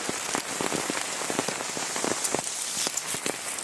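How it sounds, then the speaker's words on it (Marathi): Steady rain patters on a surface nearby in a village during a fishing outing, dense drops ticking and splashing continuously with no talking. "पाऊस मध्ये चालू झालो हा"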